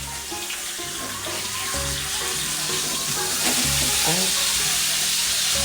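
Steak frying in a pan after being flipped gives a loud, steady, hissing sizzle that swells slightly, close by and continuous, with no talk over it.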